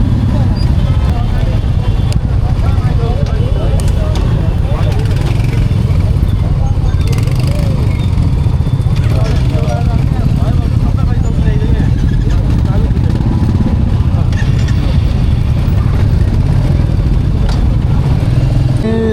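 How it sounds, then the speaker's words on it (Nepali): A Royal Enfield Classic 350 motorcycle engine rumbles loudly and steadily on a night ride in traffic, with a deep, continuous thrum while people talk over it. "बाइकको साउन्ड चेक गर्नु ल।"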